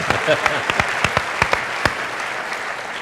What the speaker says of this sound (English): A round of applause for Willem.